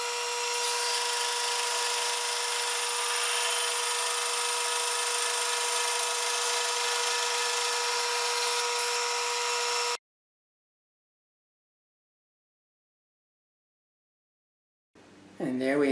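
A table saw, with the workpiece clamped to the fence, rips thin veneer slices from a small walnut board in a steady, loud, sustained whine that cuts off abruptly midway, followed by silence and then a brief burst at the end.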